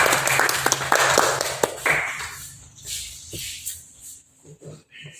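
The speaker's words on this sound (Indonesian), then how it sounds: "Tepuk tangan untuk kami" Clapping from a classroom audience after a role-play teaching demonstration, a burst of hand claps for the first two seconds that fades into scattered shuffling and a few soft taps.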